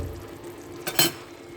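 Dried fish (shutki) is stirred in a hot pan with garlic, a low sizzle broken by two quick scraping clinks of the utensil against the pan near the end.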